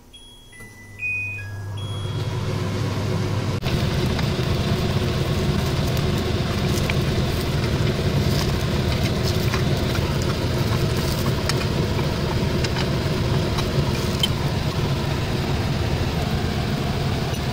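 A kitchen exhaust fan runs steadily with a constant whooshing drone. A few faint beeps sound first, then the fan switches on and holds an even, loud hum for the rest.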